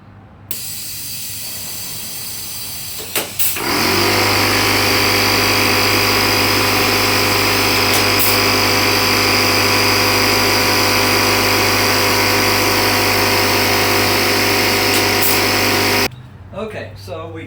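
Pneumatic rivet gun driving rivets into an aircraft horizontal stabilizer, a loud continuous hissing, buzzing roar held for about twelve seconds with brief bursts before it, close by and dominating, cutting off sharply at the end.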